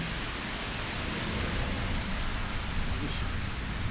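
Steady afternoon rain pours during a Fort Lauderdale, Florida thunderstorm, a dense, even hiss of falling water that holds constant throughout.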